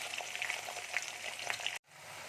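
Chopped onion fries in a wok with a dense, close hiss and crackle that drops out sharply for a moment, then comes back as a softer, steady sizzle.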